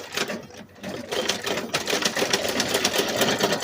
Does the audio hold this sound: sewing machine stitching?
yes